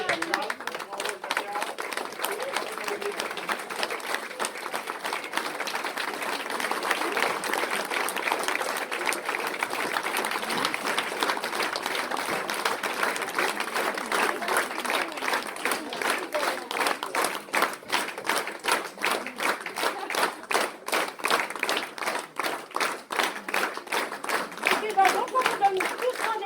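A sustained, dense burst of applause and clapping from an audience at a French amateur dancefloor show, steady across the whole stretch and slightly building near the end, with no voices heard over it.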